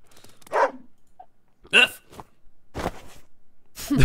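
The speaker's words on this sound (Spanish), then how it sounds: "Pelearte con un perro." Short barks of a cartoon dog from the strategy video game Wargroove, three or four separate yips spaced across a few seconds, fairly loud with quiet gaps between them.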